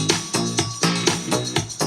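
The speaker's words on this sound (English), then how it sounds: "the beat and the bass line together sound like this" The beat and bass line of an electronic track, a punchy looping groove of regular thumping hits over a sustained bass tone, loud and alone without any voice.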